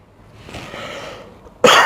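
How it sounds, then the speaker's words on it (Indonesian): A man on a stage-hypnosis set gives a single sharp cough at the end, loud and close after a stretch of quieter breathy sound. "Sedikit batuk gak apa-apa ya, yang penting sehat."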